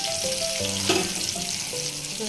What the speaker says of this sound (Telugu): చూడండి పూర్ణాలు మనకు చక్కగా కాలనీయండి.